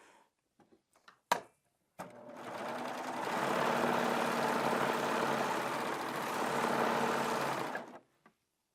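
A Baby Lock Triumph serger runs a wave stitch hem, a loud steady machine whir of about six seconds starting after a few clicks and stopping abruptly, alone without talk.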